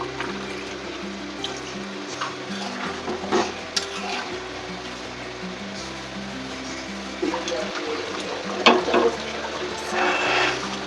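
Potatoes and water go into a pot of nearly cooked mutton korma, bringing splashing, wet stirring and bubbling, with a steady low hum and a few louder spoon knocks near the end.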